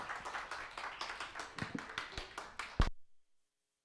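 A youth-group congregation at a church service claps to welcome two young MCs, a small crowd's steady, moderate clapping for about three seconds that ends in a few final claps.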